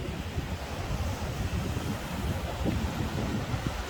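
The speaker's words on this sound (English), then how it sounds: "The gentle waves of the Irish Sea." Gentle waves of the Irish Sea wash against the beach beside Blackpool's promenade steps, a continuous close surf rumble mixed with wind buffeting the microphone, with no talk.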